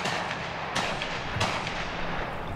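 Hunters' gunshots crack at a bird migration crossing point, several distant sharp reports scattered over a steady outdoor background hiss, with no voices.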